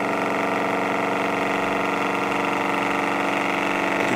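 A Bedini pulse motor with its coils wired in parallel hums in a steady, buzzing whir, a constant mechanical tone held at even loudness with no voices.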